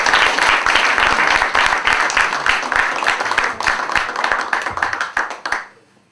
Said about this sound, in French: Je vous demande un tonnerre d'applaudissements pour Gaby Sanzal.